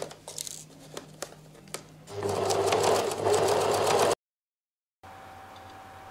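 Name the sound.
sewing machine sewing coat lining shoulder seam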